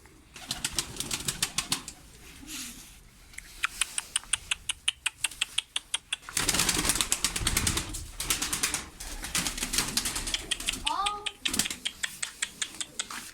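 Racing pigeons in a loft coo softly amid rapid clicking and fluttering bursts, with people talking nearby at intervals.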